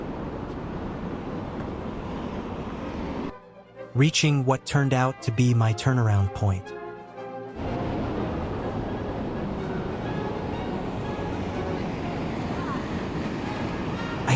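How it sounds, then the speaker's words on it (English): Steady broadband rush of water from a waterfall in a forested Oregon state park, continuous and fairly close, interrupted midway by someone narrating before the roar returns alone. "And then, there was that magical sound of rushing water."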